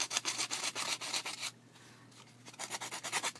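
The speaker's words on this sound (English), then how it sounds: "let's see if we can sand it off on the side." Sanding excess material off the side of a cork charm gives quick rhythmic rubbing strokes, close and soft, with a short pause midway before the scratching resumes.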